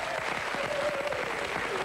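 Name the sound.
studio audience applause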